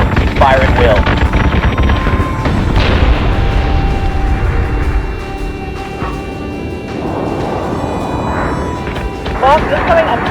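Heavy gunfire and booming blasts in a space battle in Battlestar Galactica Deadlock, with dense rumbling barrages, a sustained engine hum and electronic tones, and voices calling out over the action.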